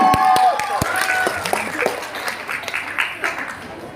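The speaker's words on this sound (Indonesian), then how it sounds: "Tepuk tangan buat nomor 1." An audience at a Betawi traditional dance festival applauds the first dance performance with sharp claps at the start that thin into looser scattered clapping, with voices talking over it.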